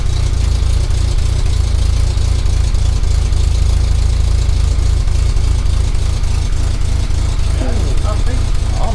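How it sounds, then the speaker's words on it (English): An Austin Allegro engine idles on full choke after a carburettor rebuild, a loud steady low rumble from the exhaust with a fast regular pulse, heard close up, with brief voices near the end. "Do an exhaust note noise."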